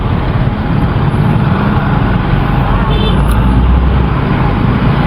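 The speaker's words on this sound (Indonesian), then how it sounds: "Aduh, Jakarta guys, dimana-mana macet anjir." Dense, loud traffic rumbles on a congested Jakarta road, steady engine drone and roadway noise with a brief high whine, heard continuously from close by.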